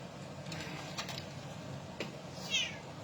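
A cat meows a few times nearby in a kitchen, short calls in a quiet room, with a brief higher-pitched meow near the end.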